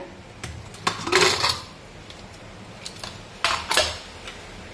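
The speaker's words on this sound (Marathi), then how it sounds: "इकडे कुकर सुद्धा पूर्णपणे थंड झालेला आहे कुकरचं झाकण काढूया" A cooled pressure cooker lid being lifted off among kitchen pots, heard as two short bursts of metallic clatter and scraping, close and moderately loud, with quiet pauses between.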